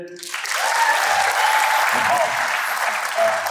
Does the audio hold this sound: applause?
yes